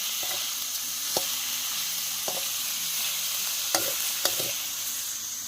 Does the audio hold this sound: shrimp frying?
yes